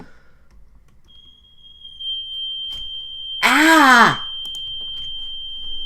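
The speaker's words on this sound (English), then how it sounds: "I think that's our smoke alarm." A home smoke alarm, set off by something burnt, sounds as a thin, steady high-pitched tone in the background and keeps going throughout. A loud voiced shout and some talk break in over it.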